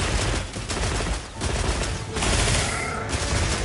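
Rapid bowgun gunfire in Monster Hunter Wilds, a loud, dense stream of shots that briefly dips before resuming and carrying on to the end.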